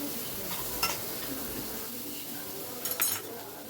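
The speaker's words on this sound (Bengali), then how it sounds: "এবার সব কিছু আমি ভালো করে মিশিয়ে নিচ্ছি।" Diced potatoes being stirred in a frying pan, a steady sizzle of frying with a few clinks of a utensil against the pan, fairly quiet and close, without speech over it.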